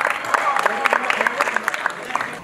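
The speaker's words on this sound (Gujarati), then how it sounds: "એકવાર જોરદાર તાળીઓ થવી જોઈએ એમના માટે" An audience at a school prize-giving applauds a student winner, with quick, uneven clapping of moderate loudness over a low murmur from the crowd.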